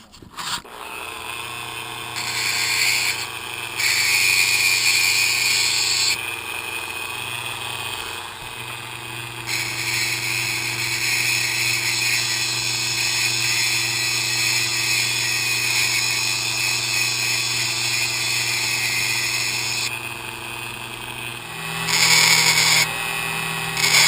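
A whining power tool sands down small parts of a Honda CBR motorcycle brake switch. The loud, high motor drone comes in long runs, with brief pitch shifts and pauses between passes.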